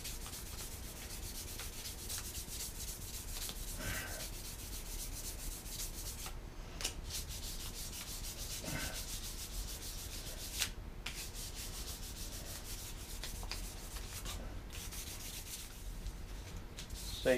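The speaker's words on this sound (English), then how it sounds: "Rub that down a bit smoother with the 600 grit." A wooden spoon is rubbed down with fine 600 grit sandpaper, giving a faint, continuous, gritty rasping that stays steady and quiet throughout, with no talk.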